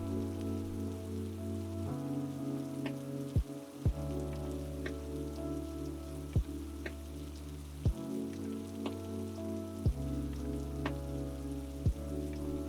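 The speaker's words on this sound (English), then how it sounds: "Rain taps slowly against the windows" Steady rain taps against the windows of a home in Sweden, a soft continuous patter with a few sharper drops standing out, heard alone with no talk.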